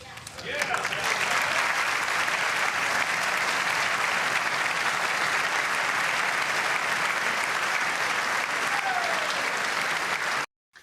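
Sustained applause from a large audience in the chamber at the State of the Union address, loud and steady for about ten seconds before cutting off abruptly, with a few voices mixed in.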